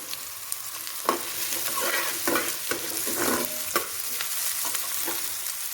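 Onions and tomatoes frying in a pan for chilli potato, with a continuous sizzle and regular spatula scrapes and knocks from close up, with no talking.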